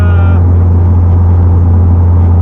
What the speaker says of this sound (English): So I'm gonna start this thing up and warm it up